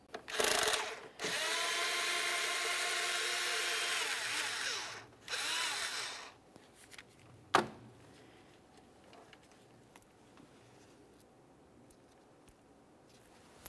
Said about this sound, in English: Now we can remove our one 10mm headed mounting bolt located just behind here.